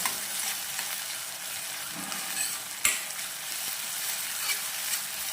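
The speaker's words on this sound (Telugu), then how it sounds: "సిమ్లో పెట్టుకుని ఫ్రై చేస్తాం" Fish curry ingredients, potato and tomato among them, fry in a pan over a low flame, giving a steady close sizzle with soft stirring scrapes and one sharp click near the middle, no voices.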